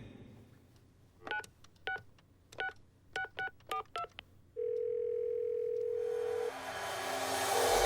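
A telephone number is dialed: a series of about a dozen short, clear touch-tone beeps in quick irregular bursts, followed by a steady tone and then rising hiss, quiet and close.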